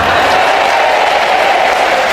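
A short stretch of steady, dense clapping from a congregation listening to a priest's sermon, loud and continuous without a break.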